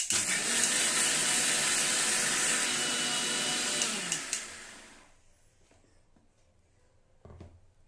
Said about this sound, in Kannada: ಇದಕ್ಕೆ ಈಗ ನೀರು ಸೇರಿಸಿ ಇದನ್ನು ನುಣ್ಣಗೆ ರುಬ್ಬಿಕೊಳ್ಳುವ.